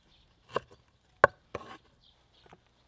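Ginger being pounded for a small batch of fresh kimchi, a few sharp, separate knocks spaced irregularly, close but soft against a quiet background.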